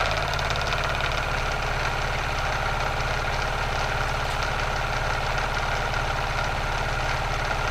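A milling machine cuts steel with a Harbor Freight end mill at about 2 inches a minute, a steady droning motor hum with rapid fine chatter from the cutter, constant and close with no talk.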